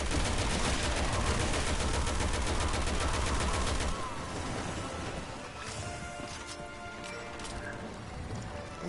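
Gunfire in the co-op shooter Resident Evil 6: a rapid, loud string of automatic shots for about four seconds, followed by quieter game clatter and scattered impacts.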